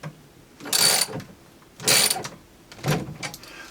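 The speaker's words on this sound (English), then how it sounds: "And then tighten it down." A fastener being tightened while mounting a second deck on a model railroad layout, with three bursts of close ratcheting, a short rhythmic clicking in each pass separated by brief pauses.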